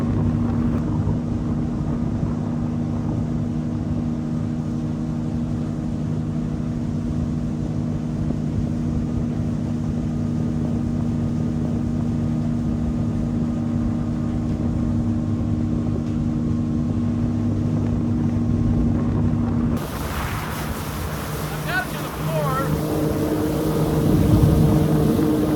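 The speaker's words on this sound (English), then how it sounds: "I had my own speedboat, and to my surprise, there was very little instruction on how to drive these 30 horsepower outboards." A speedboat with a 30 horsepower outboard motor runs at a steady, loud drone throughout, with water and wind noise, and the engine tone shifts near the end.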